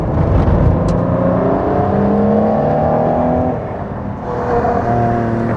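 A powerful supercar engine, among cars including a Ferrari Enzo, revs close by, pitch sweeping upward through gears, dipping briefly, then roaring again.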